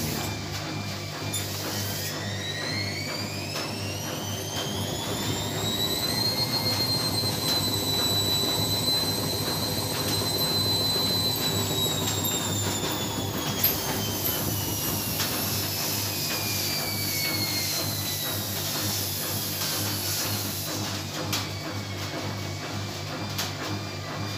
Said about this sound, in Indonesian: terjadi goncangan ya kepada mesin cuci ketika proses spin